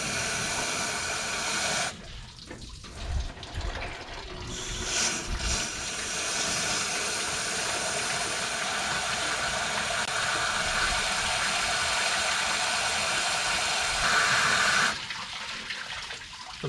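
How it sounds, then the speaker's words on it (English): Water gushes and hisses through the motor of a 1963 Chevrolet Impala SS barn find as it is rinsed out, a loud, continuous splashing rush with a few brief dips and surges in flow. "I'm gonna go ahead and just run some water through the motor"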